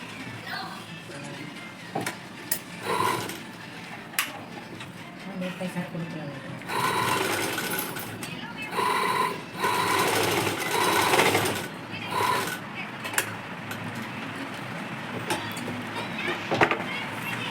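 An electric sewing machine stitches a school skirt in close, uneven runs of rapid mechanical whirring broken by pauses and scattered clicks, with a person speaking over parts of it.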